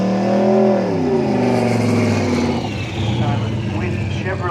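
A little Peugeot 205 accelerates hard down the Santa Pod drag strip, its engine note climbing through rising harmonic sweeps, loud and close, with a commentator's voice over the roar.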